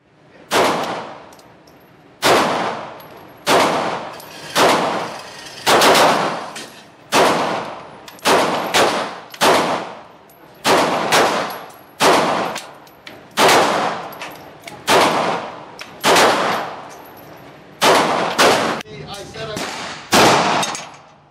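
Springfield XDm pistol shots at a shooting range, around twenty loud sharp reports fired singly and in quick pairs and bursts with short pauses between strings, close and echoing, with no talk over them.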